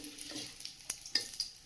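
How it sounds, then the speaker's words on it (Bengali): Dry red chillies and whole cumin seeds crackle briefly in hot oil in a wok, tempering for potato dal, a quiet close sizzle with a few sharp pops and a light utensil tap. "কড়াই দিয়ে দিয়েছি শুকনো লঙ্কা, গোটা জিরে"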